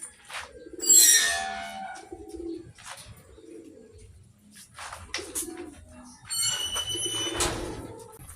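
Racing pigeons cooing from the middle of a roof, soft low coos and a few chirps between quiet gaps, with a person talking nearby and occasional rustling.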